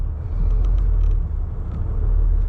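A heavy truck with a trailer creeps onto a weigh scale, giving a loud, steady low engine rumble with faint creaks and clunks from the rig, and no talk.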